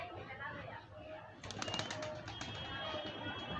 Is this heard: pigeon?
yes